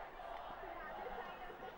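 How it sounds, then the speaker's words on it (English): A Thomian crowd cheers at a St. Thomas school football match against Gateway, a distant roar of many voices blending into a steady babble. "the Thomian crowd cheering for"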